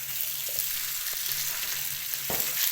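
Round potato slices frying in oil in a karahi, a steady close hiss of sizzling oil with a few soft clinks and stirring scrapes, no talking.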